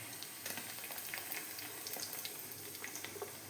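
Green chillies dropped into hot oil with curry leaves, mustard seeds and fenugreek, giving a steady hiss and crackle of frying with scattered small pops throughout, close and fairly quiet.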